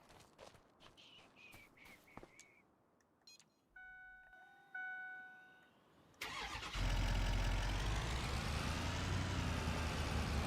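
Truck engine starting in Farming Simulator: a few footsteps and clicks, then a steady tonal whine and a rising mechanical whir, before the engine catches and settles into a loud, continuous rumbling idle close by.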